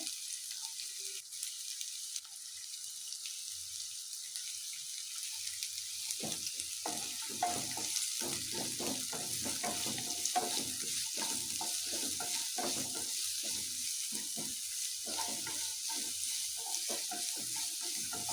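Chopped onions frying in a pan for paneer fried rice, a continuous sizzle with dense crackling and stirring that grows busier after the first few seconds, with no voices.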